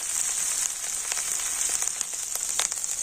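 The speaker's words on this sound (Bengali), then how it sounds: "আদাটাও তেলের উপরে আমি একটু ভেজে নিচ্ছি যাতে করে আদার যে কাঁচা গন্ধটা চলে যায়" Grated ginger fries in hot oil with a steady, soft, bright sizzle and scattered light pops, close and continuous with no talking.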